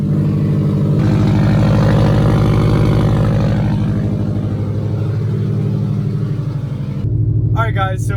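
A Subaru WRX STI engine runs steadily after starting, a loud, low rumbling idle with slight revving, and a voice speaks briefly near the end.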